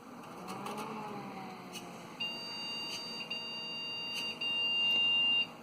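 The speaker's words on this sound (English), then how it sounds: "I only got post-beeping codes for memory issues" A computer motherboard emits steady electronic POST beeps signalling a memory error after four new RAM sticks are installed, sustained tones starting midway and continuing to the end, with faint clicks and background room noise.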